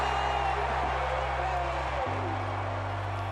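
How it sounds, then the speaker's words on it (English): A college football crowd at a Kentucky game roars and cheers in a continuous broad wash, with a low steady hum beneath and a voice talking over it. "the roar of the crowd"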